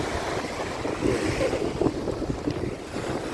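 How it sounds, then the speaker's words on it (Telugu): Waves washing in at Rushikonda beach, a steady roar of surf blended with heavy wind buffeting the microphone, continuous and fairly loud with no voices. "బీచ్కి వచ్చాం ఏ బీచ్ ఇది"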